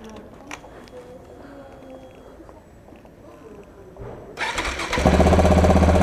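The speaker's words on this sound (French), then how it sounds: "j'ai dû remettre le pot d'origine. On va écouter tout de suite la différence de bruit." A vehicle engine fitted with its original stock exhaust pipe starts near the end after a stretch of quiet street background, then runs loudly and steadily close by.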